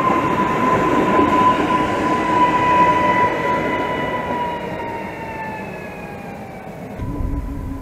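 A passenger train running toward Cieszyn rumbles past close by, its steady roar and wheel noise filling the whole stretch with a faint high squeal before easing off near the end.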